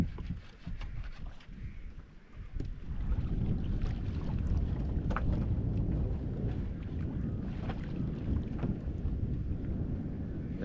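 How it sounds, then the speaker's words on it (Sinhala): Strong wind buffets a small canoe at sea in a steady, rough roar, with water sloshing and occasional knocks as the boat rocks. "අද හුලං සැර නිසා පොඩ්ඩක් එහෙට මෙහෙට ඔරුව කැරගෙන"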